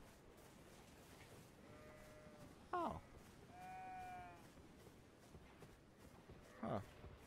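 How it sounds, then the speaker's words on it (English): Sheep in the video game Elden Ring bleat twice, in short wavering calls heard faintly against a quiet ambient game background, and a player briefly speaks. "Did I hear a sheep?"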